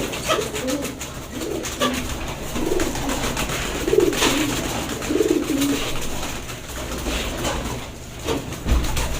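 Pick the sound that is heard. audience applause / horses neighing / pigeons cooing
pigeons cooing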